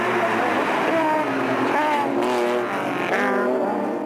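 Race cars in a racing video game roar off the start line together in a loud, continuous blend of revving engines with rising and falling pitches as they accelerate toward the first corner.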